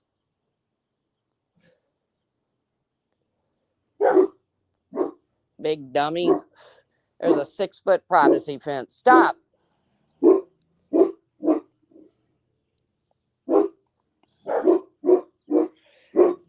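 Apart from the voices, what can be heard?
dog barking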